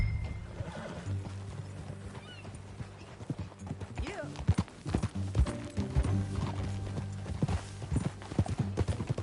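A horse whinnies and hooves pound along at a gallop amid clattering tack in the video game Red Dead Redemption 2, with a brief spoken word from a person.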